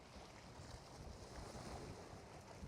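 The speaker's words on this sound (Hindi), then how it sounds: "पानी की बीच की समंदर की लहरों की आवाज़ आपको आ रही होगी" Sea waves wash onto a beach at night in Dubai, a soft, steady surf roar mixed with wind noise, faint and continuous with no distinct breaks and no voices.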